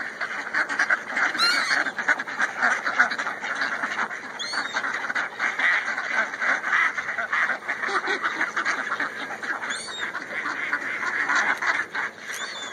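A flock of ducks quacking and honking nonstop while feeding on Fritos, a dense, close, busy chorus with occasional higher calls cutting through.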